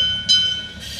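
A passing train rumbles briefly and loudly, with a thin high metallic whine riding over a low rolling roar that swells for a moment and then eases off.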